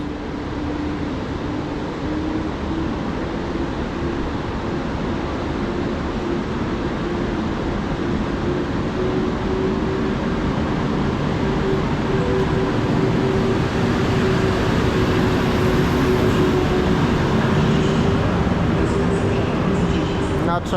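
EP09 electric locomotive EP09-043 hauling the Warszawska Syrenka express departs Kraków Główny station, a steady low rumble and rising hum continuing throughout, with station announcements and voices over it.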